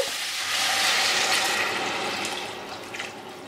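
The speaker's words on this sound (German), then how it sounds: "Jetzt gebt ihr 700 ml Wasser hinzu." Water poured steadily into a cooking pot holding curry powder and carrots for a red lentil pasta sauce, a continuous rushing splash that swells and then tapers off, heard alone at close range.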